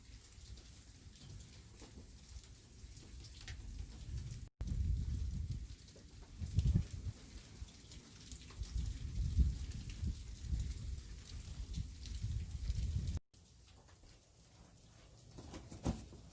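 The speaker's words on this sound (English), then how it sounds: "it has been raining all day, all night." Steady rain falls outdoors in a long, even wash, faint to moderate and heard alone without voices, with patter on surfaces through the whole stretch and a few brief dropouts.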